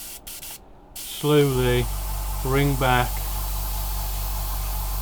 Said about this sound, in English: practice on getting that biting point with a single action airbrush